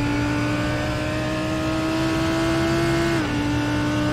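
A GT3 race car engine drones at Sebring in a racing video game, holding a steady high pitch before a quick drop as the car shifts or lifts, heard close and alone.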